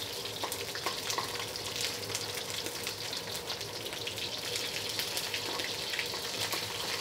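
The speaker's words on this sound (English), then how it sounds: "I wanna keep tilting it to let the oil touch every part of that fish" A whole red snapper frying in oil in a wok, giving a steady soft crackling sizzle with faint spattering pops and no voices.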